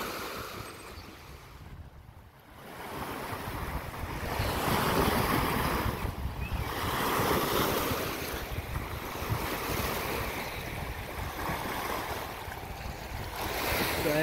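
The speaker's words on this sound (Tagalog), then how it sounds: "Malakas ang hangin." Steady roaring wind buffets the microphone over the continuous wash of Mississippi River waves at a campground, rising and falling in strength throughout.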